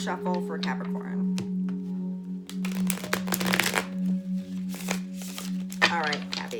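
Tarot cards being shuffled by hand in a few quick riffling bursts over a steady low background hum, close and moderately loud.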